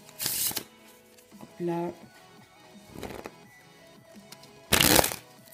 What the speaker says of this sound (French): Quand c'est fait, donc je remélange encore un petit peu.